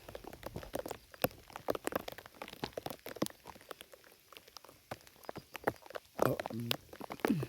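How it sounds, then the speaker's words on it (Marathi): Rain falls outdoors beside a dark green grazing strip, with irregular patter and drops hitting surfaces close by, moderately quiet and steady, with no talk. "कसा पाऊस पडतोय"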